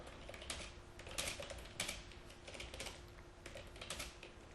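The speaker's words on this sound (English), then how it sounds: "As soon as I type the first letter" Soft, rapid typing on a computer keyboard, a steady patter of quiet key clicks throughout with no voices.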